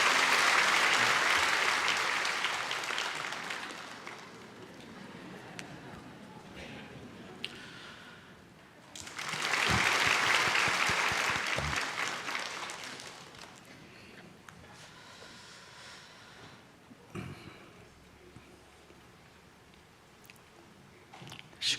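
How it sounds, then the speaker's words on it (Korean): A church congregation claps during a Sunday worship service to bless a child, two swells of applause that fade off, with quieter scattered claps and room noise between them. "우리 박수로 이 아이를 축복합니다."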